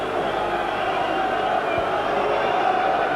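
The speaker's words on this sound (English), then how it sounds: "this is an extremely partisan crowd" Partisan boxing arena crowd roaring and cheering ahead of the Frank Bruno versus Oliver McCall title fight, a dense sustained wall of crowd noise with no break.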